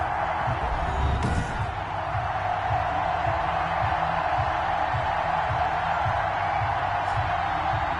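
Steady roar of a stadium crowd in Madden NFL 21 before a Seattle Seahawks versus New York Jets game, a constant loud wash of many voices with faint thuds and swells, no clear talk on top.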